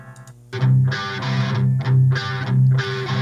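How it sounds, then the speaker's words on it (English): Distorted electric guitar with heavy effects plays a few sustained chords after a brief quiet start, loud and close, no voices. "So like this guitar just kind of sounds like this."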